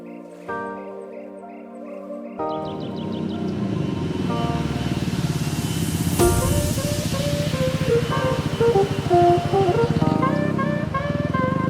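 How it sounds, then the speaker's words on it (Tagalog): A motorcycle engine drones steadily up close, its tone climbing and shifting as the rider accelerates through gears, with no talking. "Ganda naman ang takbo ng motor ko."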